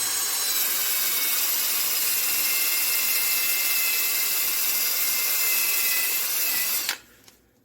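An abrasive brush spinning on a power drill scrubs a steel barbell, giving a loud, steady high-pitched whirring grind up close that cuts off abruptly near the end.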